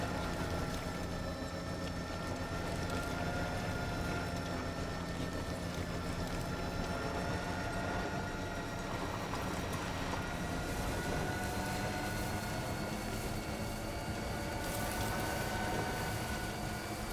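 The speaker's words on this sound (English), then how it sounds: "Monorail." A monorail train in Death Stranding 2 glides past with a sustained, steady mechanical hum and rushing drone that swells slightly midway and holds at moderate volume throughout, with no voices.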